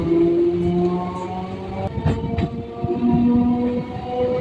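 A Howrah–Belur Math local train picks up speed, heard from inside as a rumbling ride with tonal whines and a few sharp rattles and clunks midway.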